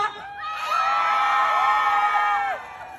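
At a nighttime outdoor festival in Gyeongju, a large crowd shouts and cheers together in one long, loud swell of high voices that rises, holds for about two seconds and then fades.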